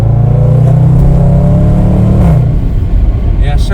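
A Range Rover SVR accelerates hard, its engine revving loudly and rising in pitch up close before easing off, followed by a quieter tail.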